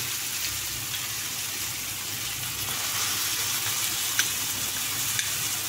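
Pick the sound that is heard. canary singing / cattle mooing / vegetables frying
vegetables frying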